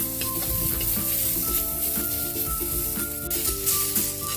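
Garlic and onion sauteing in a pan for Bicol express, a strong steady sizzle with repeated stirring and scraping, heard alone with no talking.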